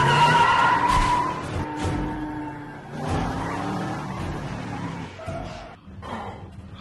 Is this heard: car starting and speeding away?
yes